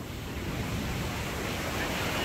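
Steady broadband rush of a mountain waterfall cascading near Mont Blanc, a constant roaring wash with some wind noise on the microphone, close and continuous with no talking.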